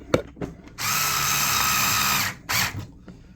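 An electric screwdriver drives screws while a countdown timer switch is installed, with a short whir, then a long steady high-pitched spin and one brief final burst, loud and close.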